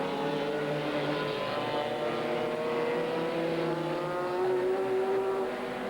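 FIA GT race cars from the 2000 season lapping a circuit, a continuous loud engine drone with rising and falling pitch as the cars run near, with no voices over it.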